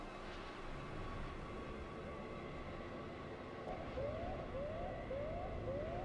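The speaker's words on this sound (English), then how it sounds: "Hear the sound of a siren going." Siren sound effect in an Alien tabletop RPG session, four rising wails in quick succession at the end, over a steady wind and dust ambience.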